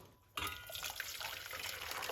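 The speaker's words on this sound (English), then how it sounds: "Let's pour in some water" Water poured into a cooking pot for a clove and garlic drink, a sudden splashing gush that starts after a brief quiet moment and continues steadily at close range.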